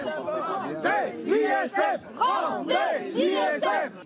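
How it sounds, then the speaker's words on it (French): A crowd of yellow vest protesters at Rocamadour boos and jeers three government ministers, among them the agriculture minister. Many loud, overlapping voices rise and fall in waves of shouting for the whole stretch. "3 ministres, dont celui de l'agriculture, le voici, ont essuyé les huées d'une poignée de gilets jaunes à Rocamadour"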